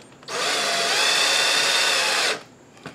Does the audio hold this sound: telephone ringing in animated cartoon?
no